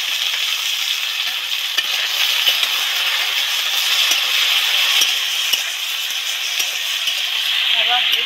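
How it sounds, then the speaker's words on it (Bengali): Vegetables frying in a pan of oil left over from frying small fish, giving a steady, close hiss of sizzling with a few faint clicks from stirring throughout, and no talking. "সবজিটা তেলের মধ্যে দিয়ে নেড়ে চেড়ে দিয়েছি, এবার একটুখানি লবণ অ্যাড করবো, যাতে সবজিটা ভালো ভালো করে ডিপ ফ্রাই হয়ে ভাজা হয়ে যায়"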